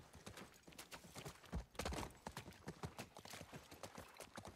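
Horse hooves clip-clop in a steady, brisk rhythm in the video game The Last of Us, close and distinct with a few heavier thuds, heard alone without talk.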